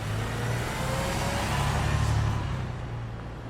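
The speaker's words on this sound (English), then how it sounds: "I get off the bus at the stop by my apartment" A bus pulls away from a stop, its engine a steady mid-pitched drone that swells slightly as it accelerates, heard close and continuous with no talking.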